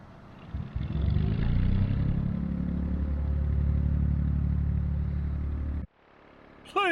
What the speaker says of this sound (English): Plumes of smoke from an engine that hasn't gone anywhere for a couple of years. Good old Lister technology.